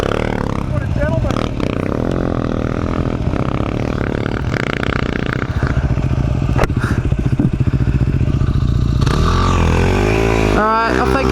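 Husqvarna enduro motorcycles on sand at Little Desert, Australia, roar and rev loudly up close as they pull away, with people talking over the engine noise.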